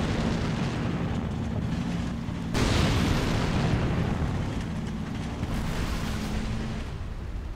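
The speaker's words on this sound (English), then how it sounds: "there's a T-90AM using a air burst round to attack that Ukrainian anti-tank gun" In a video game, a T-90AM tank fires an air-burst round at an anti-tank gun, and a loud, broad blast surges in and then rumbles and fades over several seconds.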